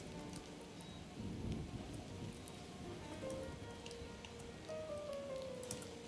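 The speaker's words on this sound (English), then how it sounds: "A nice rainy day, even though I set the weather to dry" Rain falls during an Empire: Total War battle, a soft, steady hiss of rainfall with faint low rumbles, heard quietly with a few tonal game sounds rising through it.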